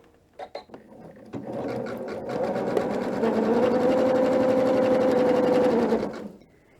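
A sewing machine runs a 5mm-wide, 2mm-long zigzag stitch while joining a border onto a quilt, starting with a few clicks and then humming steadily and closely for several seconds before stopping.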